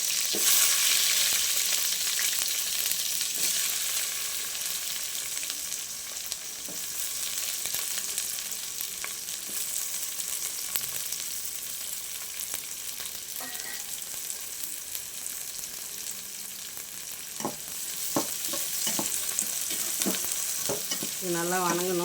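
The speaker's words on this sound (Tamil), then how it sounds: "பொரியுது." Cumin and small onions fry in hot oil for a Tamil snake gourd kuzhambu, giving a continuous close sizzle with occasional stirring scrapes and a few sharp clinks toward the end, with no voices.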